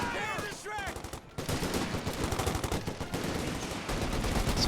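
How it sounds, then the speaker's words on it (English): Rapid machine gun bursts crackle densely in a Company of Heroes 2 battle, a continuous rattling barrage with scattered gunshots, preceded by brief voices. "I'll deploy the MG to move the infantry in."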